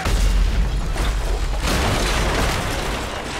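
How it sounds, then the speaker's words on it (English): A mortar round explodes in the Call of Duty: Modern Warfare 3 campaign, heard as a heavy, sustained rumbling boom with dense low-end roar that fills the whole moment and slowly tapers off. "Mortar incoming"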